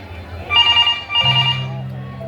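A telephone rings in a home at an old-age home setting, a couple of clear electronic ring bursts heard close, with a voice speaking over the second ring.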